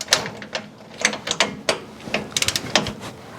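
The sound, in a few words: wrench turning a steering gearbox bolt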